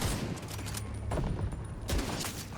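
Gunfire in The Division 2 shooter game crackles as a dense, sustained fusillade of overlapping shots, loud and close, with rapid bursts and a brief swell near the end.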